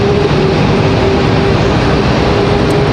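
A steady, loud roar of an airplane at Raleigh-Durham International Airport that holds at even strength throughout, with a faint tonal hum running under the broad rumble.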